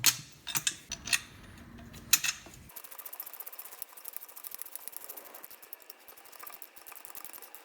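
A ratchet tightens the lower engine mount bolts on an AMF-era Harley-Davidson Shovelhead Lowrider engine, a few quick loud clicking bursts up close, followed by softer mechanical ticking and shuffling.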